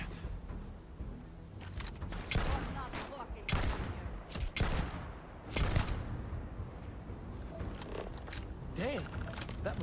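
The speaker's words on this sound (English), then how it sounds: "Somebody's still shooting at us?" Enemy gunfire in the Starfield video game crackles in several sharp bursts amid a firefight, with a voice talking over the shots.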